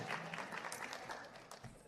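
Audience at a holiday reception for families of unaccompanied employees clapping and cheering for visiting cast members of a Wicked musical production, a short burst of scattered applause at moderate distance, fairly faint.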